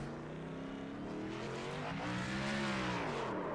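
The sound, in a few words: race car downshifting and revving in video game iRacing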